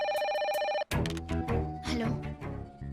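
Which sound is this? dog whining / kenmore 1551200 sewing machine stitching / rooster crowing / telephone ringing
telephone ringing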